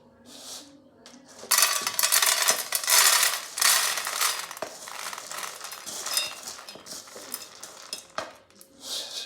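Roasted chickpeas tumble from a pan into a bowl in loud, rattling bursts of hard little clatters, with pauses and shifting intensity as the pouring goes on.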